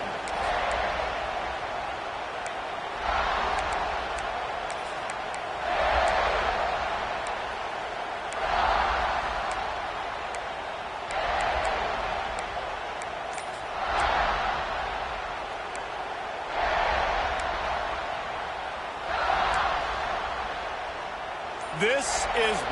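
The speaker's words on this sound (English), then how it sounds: "This crowd ready to make its presence known." A football stadium crowd roars in a steady, rolling wash of noise that swells in repeated waves, while a commentator talks over it.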